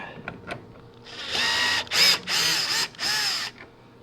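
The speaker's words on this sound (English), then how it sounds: "then you have a 1/4-inch hex screw there, and we're going to be taking this out." A power tool whirs in several short bursts while a 1/4-inch hex screw is backed out of a GE dryer during a gas conversion, with a few faint clicks before the first burst.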